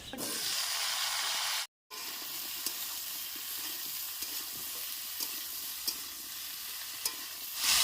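Bottle gourd and potatoes frying with neem leaves and onion, giving a strong continuous sizzle with occasional light clinks of a spoon stirring, close and loud. One brief cut to silence breaks the sound, and no one speaks.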